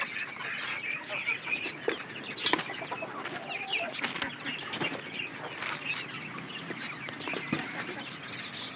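A rooster and other fowl cluck close by, with bursts of wing flapping and scattered scratching sounds mixed into a busy farmyard background.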